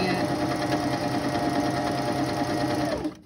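A sewing machine stitches a satin ruffle in a steady, close, continuous whir, stopping abruptly just before the end.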